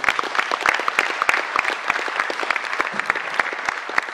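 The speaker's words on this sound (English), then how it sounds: "Can we give them a nice round of applause?" Steady applause from a crowd, with close individual claps standing out against the continuous clapping throughout.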